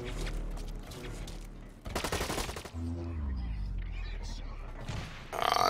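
Gunfire in a video game plays as bursts of rapid shots and dense volleys, with loud thumps and broadband blasts between quieter gaps, under and around talking voices.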